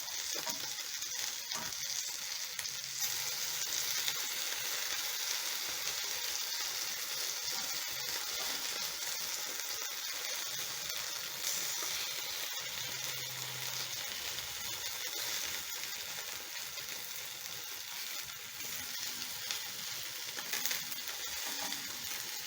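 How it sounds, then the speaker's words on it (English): Fish frying in a pan: a continuous bright hissing sizzle with fine crackling, steady and moderately close for a long stretch, with no talking. "I'm going to give my fish another minute to fry."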